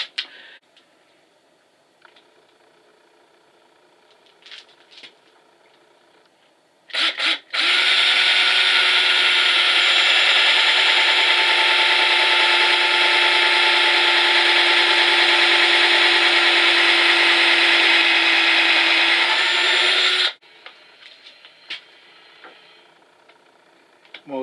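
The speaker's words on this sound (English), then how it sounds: "I'm going to drill 2 more holes here, and then I'm going to put the screws in there" A power drill bores holes and drives screws into wood outside a wood shed, with one long, loud, steady whir of about thirteen seconds, preceded and followed by quieter scraping and handling noises.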